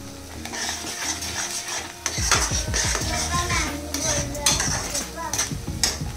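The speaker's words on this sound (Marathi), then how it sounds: "तर मसाला छान आपला फ्राय होतोय" Spice masala for chana dal fries in a pan, sizzling steadily while a utensil stirs and scrapes against the metal in quick, uneven strokes, close and fairly loud.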